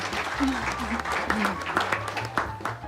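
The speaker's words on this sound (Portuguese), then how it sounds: "Palmas para Clarice, calor humano" Applause from an audience, steady clapping of moderate loudness with a voice briefly audible over it.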